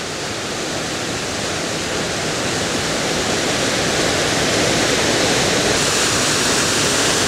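Main waterfall in Rangeley, Maine, roaring steadily and close as water pours down toward a stream, a dense unbroken broadband rush that swells slightly louder over the seconds, with no voices.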